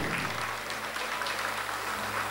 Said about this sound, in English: give me a little applause for Steve Berry